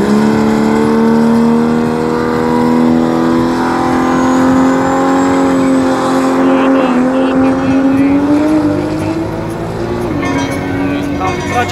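A Nissan Skyline R32 race car accelerates hard down a drag strip in qualifying, its loud engine note climbing steadily with shifts, while a commentator talks over it throughout.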